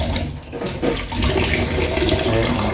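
Tap water pours steadily from a faucet at home, a continuous close splashing rush that swells slightly after the first second and never stops.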